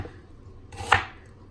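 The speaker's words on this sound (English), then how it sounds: "I'm gonna chop my onions, my bell pepper, my garlic, my tomato." A single sharp knife chop on a cutting board while prepping onions, bell pepper, garlic and tomato, one crisp close strike in a quiet kitchen.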